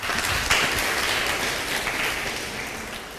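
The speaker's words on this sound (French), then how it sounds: "Voilà, applaudissez." Steady audience applause for schoolchildren introduced on a TV quiz show, a sustained, moderately distant wash of clapping with no speech over it.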